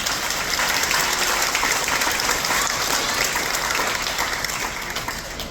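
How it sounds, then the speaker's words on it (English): A big round of applause from a crowd at a veterans ceremony aboard a Royal Caribbean cruise ship, steady and loud throughout, with dense clapping and no speech over it. "Let's give them a big round of applause."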